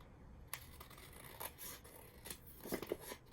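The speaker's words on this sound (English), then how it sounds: "Okay, let's give this a little trim down." Scissors trimming paper for a junk journal, giving faint, close snips and light paper rustles scattered over a few seconds in a quiet room.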